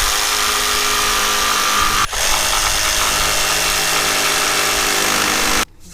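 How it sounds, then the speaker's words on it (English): A jigsaw makes a cope cut in crown molding, a loud, continuous high buzzing whine held steady for about five and a half seconds with one brief dip, then cutting off near the end. "There's the cope cut right there using the jigsaw."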